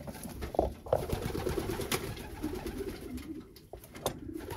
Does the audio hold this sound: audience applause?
no